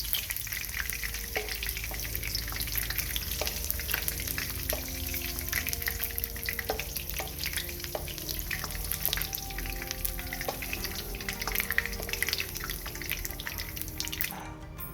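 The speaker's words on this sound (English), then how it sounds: "The frying capsicum smells so nice." Capsicum fries in oil in a pan, sizzling and crackling steadily, with small pops and bubbling throughout, no voices present.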